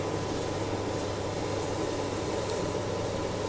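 A steady, continuous airplane engine drone in Microsoft Flight Simulator, an ATR regional airliner, holding at a constant hum with no change in pitch or level throughout.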